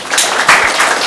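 A conference audience at a presentation on gas and electric grids gives brief, loud, close applause, a dense burst of clapping lasting about a second.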